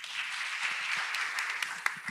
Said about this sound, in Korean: 김도영 대표님 박수로 받겠습니다